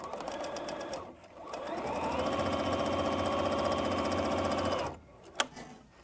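A sewing machine stitches a rectangle of fabric for a bow, running in one steady, fast mechanical whir for several seconds before stopping, followed by a single sharp click.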